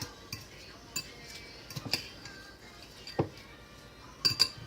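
Taco salad with cheese being stirred in a bowl, giving scattered light clinks and scrapes of a utensil against the dish, a few sharper taps near the end, close and fairly quiet.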